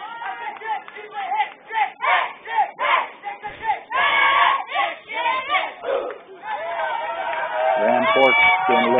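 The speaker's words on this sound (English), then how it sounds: "cheering from the dugout." Youth baseball players shouting and cheering together from the dugout at a Cal Ripken tournament game, loud rhythmic chanted bursts about every half second, then a sustained jumble of yelling voices near the end.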